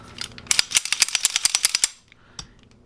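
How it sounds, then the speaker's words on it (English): The slide of a Ruger SR1911 pistol, being reassembled after field stripping, slides into place: a rapid run of sharp, close metallic clicks for about a second and a half, then a single fainter click after a short pause. "You're gonna hear a little bit of a click."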